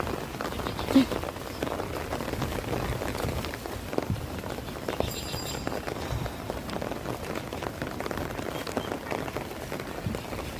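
Rain falls outdoors in a village setting with a dirt road and an open field nearby. A steady, moderately loud patter on surfaces continues for the whole stretch, with scattered heavier drops and some faint background activity.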